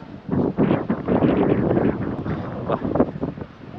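Steady wind buffets the microphone in gusty bursts, a loud broadband roar with no voices, on the open seashore at Kanyakumari.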